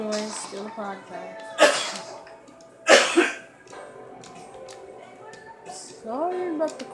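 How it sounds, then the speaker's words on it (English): Two harsh coughs burst out close to the microphone, set among stretches of talking. "Sorry about the coughing too."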